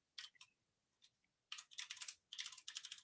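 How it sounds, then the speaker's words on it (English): Bursts of typing on a computer keyboard, quick clustered key clicks in two or three runs with short pauses between, close and clear with no talk. "I'm typing on different screens, I can't see what I'm doing"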